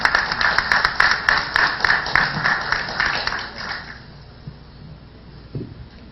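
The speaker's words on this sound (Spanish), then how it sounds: "Recibamos con un fuerte aplauso al señor Pachano." Steady applause from an audience, a dense patter of clapping that swells then fades out over a few seconds, leaving quiet room tone.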